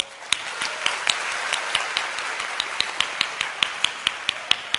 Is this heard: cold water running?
no